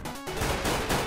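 Gunfire in the video game CS:GO, a quick cluster of several sharp shots in about a second, loud and close, with no talking over it.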